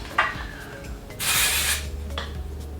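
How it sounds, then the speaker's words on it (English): A single short burst of texturizing spray hisses onto a wig up close for about half a second, surrounded by quiet rustling and faint handling noises. "I also like to use just texturizing spray"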